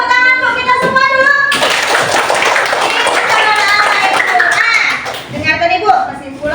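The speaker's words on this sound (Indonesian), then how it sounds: "Coba kalian tepuk tangan untuk kita semua dulu." A class of schoolchildren clapping their hands together in a classroom, a dense burst of loud, close applause that breaks out after a teacher's voice and fades as chatter and talking resume.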